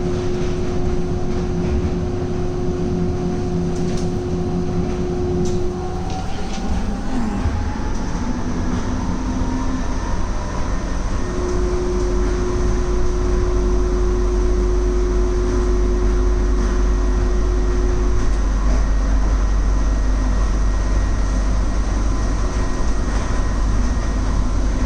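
A PeopleMover-style automated people-mover train leaves an airport's international terminal for remote parking: a loud, continuous rumble with steady electric motor whine that shifts pitch as it accelerates, heard from on board without talk.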